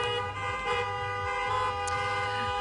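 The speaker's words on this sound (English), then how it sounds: "You can hear all the honks of support that continue" Car horns honk repeatedly in support of a pro-Israel street rally in Beverly Hills, a steady blare of several overlapping toots with short breaks, loud and close amid traffic.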